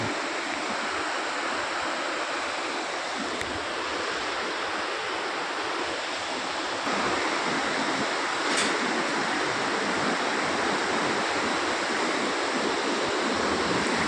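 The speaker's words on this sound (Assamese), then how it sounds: "নদীৰ কোবাল সোঁত।" Strong rushing current of a river near Parshuram Kund in Arunachal Pradesh, a dense, steady roar of water that fills the whole clip without pause.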